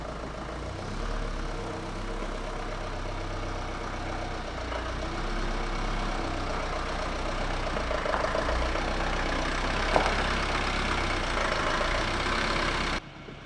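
Panzercar truck engine idling after a short drive, a dense, loud low rumble holding steady for most of the clip with a slight rise near the end before it cuts off; no talk.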